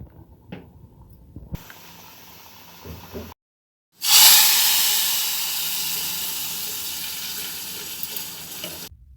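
Ghee sizzles in a pan as urad dal, mustard seeds, cumin and a little fenugreek are fried for tempering. After a brief silence a loud hiss rises, then it settles into a steady frying crackle.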